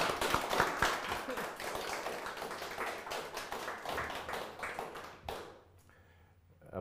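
An audience at a live talk and discussion event claps in welcome for a guest, a dense burst of applause that holds steady for several seconds and then quickly fades to quiet room tone.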